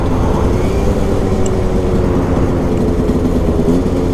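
A Vespa 50 Special scooter engine drones loud and close while riding, a steady buzzing hum with a slight shift in pitch as it downshifts, with no voices.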